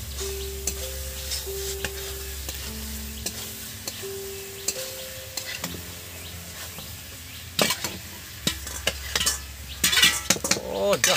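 Soybeans stirred in a pan with frying mutton fat, soft sizzling under clinks and scrapes of a spoon against the pot, with a few sharper knocks toward the end.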